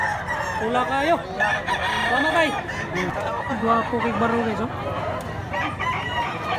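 A yellow-legged bullstag rooster crows amid a noisy poultry yard, its calls rising through layered clucking and other fowl, while people talk continuously over the scene.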